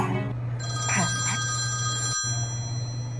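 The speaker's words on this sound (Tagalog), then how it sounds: "Nag-re-ring yung phone, sagutin ko muna." Telephone ringing indoors in a home, a steady tonal ring that starts early and runs through, over a low constant hum with brief soft background voices.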